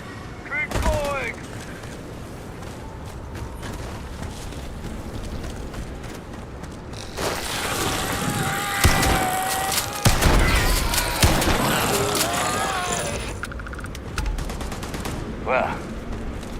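Sustained bursts of gunfire from a sci-fi shooter game, Starfield: rapid repeated shots and booms building loud through the middle, with shouting voices over the action.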